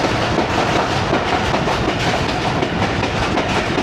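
On a train riding the rails from Lahore to Narowal, a steady, loud rumble fills the space with a faint rhythmic clickety-clack running underneath, continuous and close.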